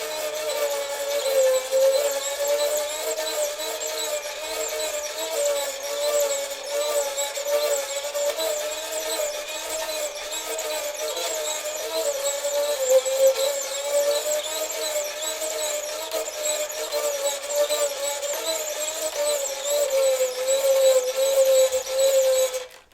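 An assembled UGears wooden hurdy-gurdy, strung with replacement strings, plays a continuous droning buzz with a steady melody line on top. It sounds reedy and nasal, holding a constant level for over twenty seconds without talking.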